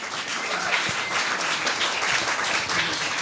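Steady applause from a large audience, dense and even throughout, with no pauses.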